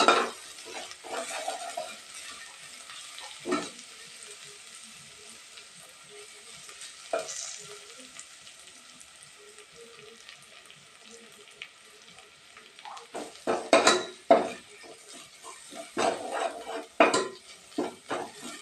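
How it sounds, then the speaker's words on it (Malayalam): Dried red chillies fry in oil for a tamarind curry, a soft continuous sizzle broken by occasional spoon scrapes and clinks against the pan, growing busier with clustered stirring strokes toward the end, no voices. "ഈ എണ്ണയിൽ കറുത്ത് ഉണക്കമുളക് നല്ലോണം"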